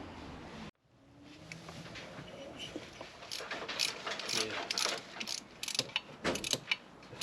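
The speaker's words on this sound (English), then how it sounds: "then we can briefly run the engine" A 2.5-litre YD25 diesel in a 2006/7 Nissan Navara D40 with a new turbo fitted, running briefly with a horrible noise; a brief silence, then rattling, ratchet-like mechanical clatter that grows louder and busier, close up.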